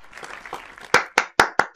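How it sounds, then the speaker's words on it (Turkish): Brief clapping sound effect in the Ultimate Tic-Tac-Toe game: soft scattered claps at first, then four sharp, evenly spaced loud claps close up. "Bak görüyor musunuz alkışlıyorlar"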